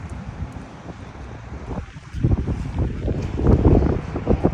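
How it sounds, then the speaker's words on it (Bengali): Cold winter wind gusts outdoors beside a mosque parking area with ice on the footpaths, a steady roar and microphone buffeting that grow louder and heavier toward the end. "বাতাসটা বেশ ঠান্ডা"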